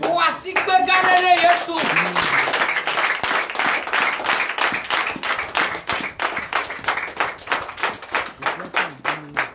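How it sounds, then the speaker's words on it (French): A Sunday church congregation in Comè, Benin, claps in a steady rhythmic beat, loud and close. The clapping continues for several seconds after a brief voice at the start. "Veuillez vous lever et acclamer le Seigneur."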